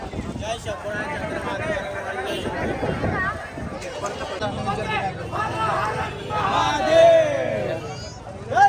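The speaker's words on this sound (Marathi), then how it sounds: "फुल गर्दी आहे फुल गर्दी" A large crowd of pilgrims packed together at Trimbakeshwar on a rainy day, making a continuous dense babble of many overlapping voices. Some nearby speakers are louder above the hubbub.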